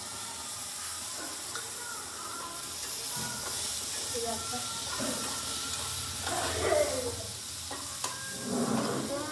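Onions and tomato sizzle and hiss steadily while frying in a pan, with a spoon scraping and stirring now and then, close and continuous under a quiet domestic background.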